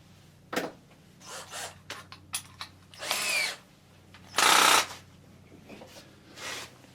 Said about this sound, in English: This is probably going to break my wrist trying to hold this relay and drill it.